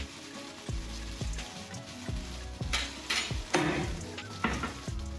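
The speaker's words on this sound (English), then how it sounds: "It should fry slowly, okay, so that all the veggies and the prawns and the paneer gets done." Vegetables, prawns and paneer fry slowly in a pan with a steady crackling sizzle, punctuated by a series of regular soft thumps and occasional louder bursts of spatter.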